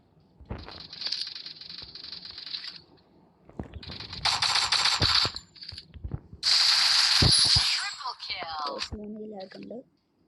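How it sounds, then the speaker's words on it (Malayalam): Gunfire from a battle royale video game sounds in sharp, harsh bursts and clattering rattles, with loud sustained volleys separated by brief gaps and scattered metallic clicks, and a voice heard at times. "കുറേ വെടി വെക്കുന്ന ശബ്ദം കേൾക്കുന്നുണ്ട്"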